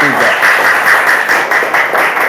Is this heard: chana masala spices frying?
no